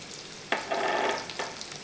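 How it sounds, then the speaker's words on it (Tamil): Onions and cashews sautéing in a hot pan give a steady sizzle, broken by a couple of sharp bursts as the food is stirred. Close, moderately loud, no voices. "கொஞ்சம் நேரம் வதங்கட்டும்."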